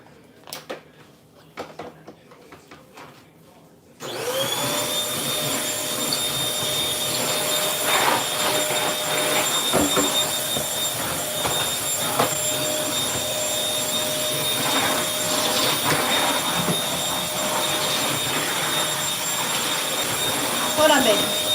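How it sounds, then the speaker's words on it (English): A small handheld mini vacuum cleaner switches on after about four seconds of quiet and runs loudly and steadily to the end, a constant whine with a high tone and broad airy roar, close by at a home crafting session on the floor. "It's my little mini vacuum."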